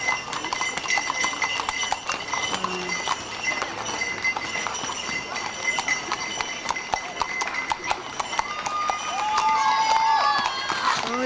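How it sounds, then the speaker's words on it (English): Horses galloping and trotting in a parade at the Pendleton Round-Up, with dense rapid hoof clip-clop and jingling over a crowd murmur, a person talking throughout and a whinny near the end. "The horses are just galloping and trotting and dancing."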